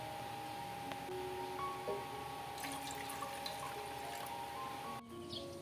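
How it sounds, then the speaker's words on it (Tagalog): Two cups of water poured into a cooking pot, a steady, soft rushing flow that runs evenly throughout, fairly quiet and close, with no voices. "maglalagay laang ho tayo ng 2 tasa ng tubig"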